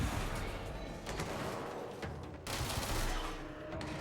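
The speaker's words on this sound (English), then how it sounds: "I don't know if that's even helpful for it to shoot that fast." Fast automatic weapon fire in the game Control, a continuous, loud stream of shots with a short break partway through before the shooting resumes.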